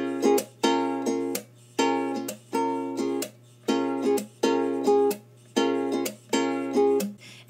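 Ukulele strummed in a repeating pluck, up-strum and slap pattern with no chords fretted, seven short muted bursts separated by brief gaps, close and clear with no talking.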